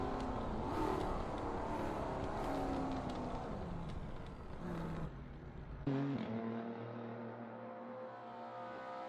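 A Ferrari race car engine in a Le Mans endurance racing video game revs and shifts through gears with a continuous roar, then drops sharply to a lower idle-like drone after a gear change.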